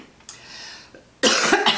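A loud burst of coughing near the mic, two or three harsh coughs in quick succession after a quieter stretch.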